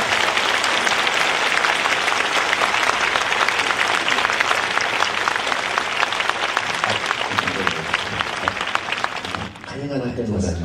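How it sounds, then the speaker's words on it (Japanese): Big, sustained audience applause at an outdoor live concert at Tōdai-ji temple, dense and loud for about ten seconds before tapering off, with a voice emerging at the end. "どうか大きな拍手でお願いします。"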